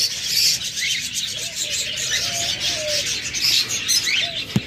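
Caged pet birds, a breeding pair near egg-laying, chirp and twitter continuously. Soft coo-like notes and a brief flutter of wings join in at close range, with a sharp tap near the end.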